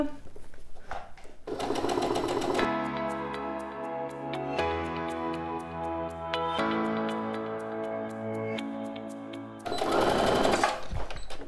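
A sewing machine stitches a quilted pouch at 3 mm stitch length, running in steady rapid bursts with a ticking needle rhythm. Brief pauses and soft handling noises come between the runs.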